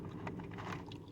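Close, soft crunching and chewing of kettle-style Firecracker Jimmy Chips from Jimmy John's, a quiet stretch of irregular bites and mastication with no talking.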